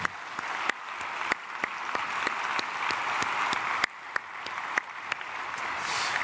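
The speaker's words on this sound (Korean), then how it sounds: "감사드리고 박수로 축복하겠습니다." A church congregation claps together at a Korean early-morning prayer service, a steady, even round of applause that fills the room and holds for several seconds.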